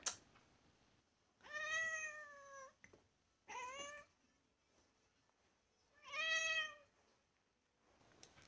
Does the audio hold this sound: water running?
no